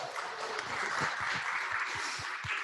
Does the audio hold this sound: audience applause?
yes